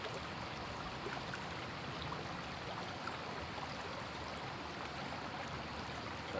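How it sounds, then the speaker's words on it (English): Steady running water fills the scene from start to finish, a dense even wash of trickling flow like a stream, loud and close with no breaks and no voices. "so I can play it louder to get over the water sounds,"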